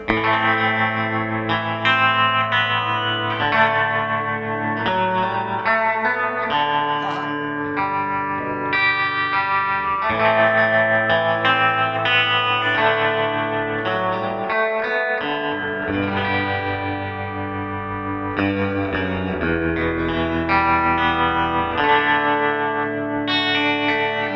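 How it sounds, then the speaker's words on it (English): An electric guitar played through the Sweet Blackberry Amp rings out with heavy reverb, chimey sustained chords and single notes blooming into a wash of echoing tails, loud and unaccompanied. "Even more reverb, like before."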